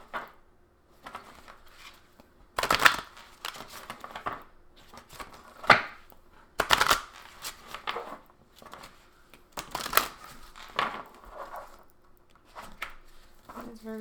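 Tarot cards being shuffled by hand in a quiet room, repeated bursts of riffling and slapping spaced a second or two apart, close and crisp, with faint handling noises between.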